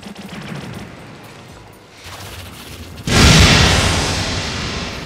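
Shunko Barrage attack in the anime fighting game ABA, a loud burst of rapid booming impacts and crackling blasts that swells abruptly after quieter game noise and then trails off.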